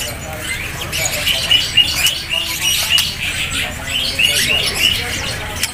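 A murai batu, or white-rumped shama, calls at a bird market with repeated bright chirps and whistles among other birds, while voices murmur in the background.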